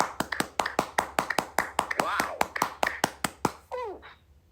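A church congregation at a prayer service claps in steady rhythmic acclamation, some twenty sharp even claps in a row, with a voice calling out briefly near the end.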